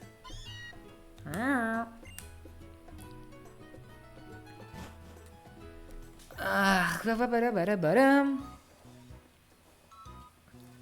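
Meowth's cry in Pokémon Supernova Sun, a USUM difficulty hack, comes as two warbling, rising-and-falling cat-like calls, a short one near the start and a longer, louder one midway, over steady game music.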